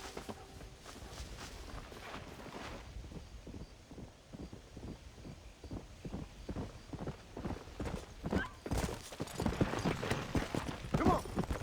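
Horse hooves thud along a trail in the Western video game Red Dead Redemption, a steady run of soft rhythmic beats growing louder and quicker toward the end under light wind.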